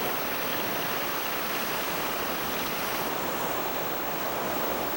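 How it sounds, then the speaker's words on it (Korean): Heavy surf breaks against rocks on a Galápagos coast, a steady, loud wash of crashing water and hiss with no other sounds. "오늘처럼 파도가 거센 날은 바위에 오르는 것조차 쉽지 않다."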